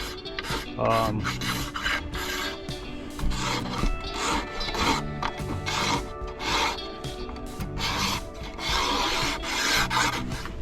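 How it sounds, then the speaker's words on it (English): Steady rasping scrapes of a scraper removing old varnish from sailboat wood, repeated strokes one after another with a gritty, rough texture, close up and continuous throughout. "I'm using the scraper to get all of this old finish off without having to sand as much"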